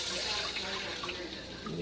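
Water is poured into a cooking pot while making pancit canton, a soft continuous splashing and trickling that is fairly quiet throughout.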